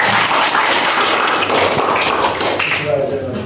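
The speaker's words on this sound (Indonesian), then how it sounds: "Tepuk tangan untuk mereka" A crowd claps at the inauguration of a village community security group in Aras, Batubara, a dense steady patter of many hands with a voice speaking over it.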